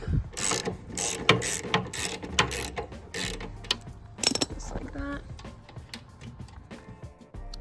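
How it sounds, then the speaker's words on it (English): Ratchet wrench with a 10mm socket loosening a bolt on the fuel tank of a 2008 Kawasaki ZX6R, giving rapid bursts of metallic clicking pawl ratchets with short pauses and a few tool knocks, close up. "so now we have our 10mm socket. We're just going to slide that on here and start to take it off."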